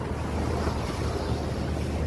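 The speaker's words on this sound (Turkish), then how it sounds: "Gece çok fırtınalı bir hava vardı. Halen devam ediyor." Stormy Atlantic Ocean surf and gusting wind roar steadily and loudly, with wind buffeting the microphone throughout.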